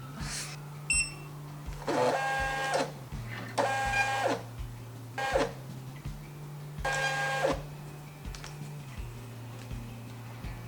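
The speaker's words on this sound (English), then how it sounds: "This is what we got out of the thermal printer." A thermal printer whirring in repeated bursts, four buzzing feed runs separated by pauses and soft clicks, over a low steady hum.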